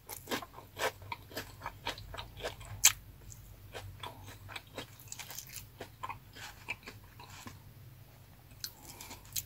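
Someone bites and chews crunchy lumpia with vegetable filling very close to the microphone. The crisp wrapper gives steady, quiet crackles and crunches with no talking.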